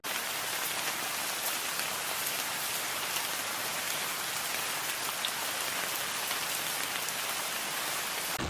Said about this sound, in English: It's like monsoon season, it is absolutely bucketing down.